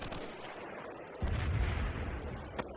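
A Predator missile strike explodes in the video game Modern Warfare 3, a sudden loud low boom that rumbles on for over a second, with a sharper report near the end.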